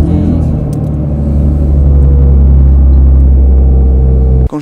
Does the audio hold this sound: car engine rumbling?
yes